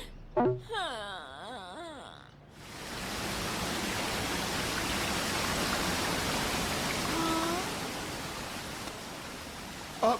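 Cartoon waterfall in a Doraemon episode, a steady broad rushing roar of falling water that swells in after a brief wailing tone at the start and holds evenly to the end.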